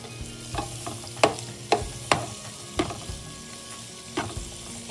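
Onion stir-fries in a hot pan, sizzling steadily while a utensil scrapes and taps against the pan in irregular strokes, close and moderately loud with no voices.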